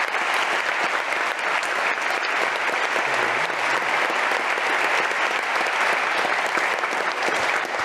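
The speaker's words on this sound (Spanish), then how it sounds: "También les pido un fuerte aplauso." Strong audience applause at a Bitcoin conference, a dense, loud and steady roar of clapping from a large crowd sustained for the whole stretch without pause.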